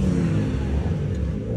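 A rough, low Volkswagen AP engine in a caged buggy rumbles steadily and loudly throughout, with a continuous mid-range drone suggesting revving, no voices.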